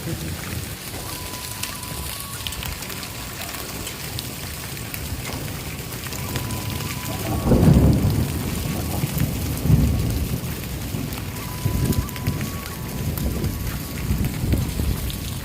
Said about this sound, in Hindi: ये यहाँ की बर्फबारी तो नहीं, इसे ओले कहते हैं।